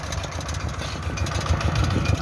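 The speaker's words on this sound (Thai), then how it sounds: "รถไถหน้าเดินตามครับผมนี่" Small single-cylinder engine on a walk-behind two-wheel tractor used for planting chili fields, chugging steadily nearby at idle-like speed with a rough low throb.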